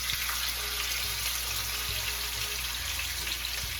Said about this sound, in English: That is a beautiful sizzle.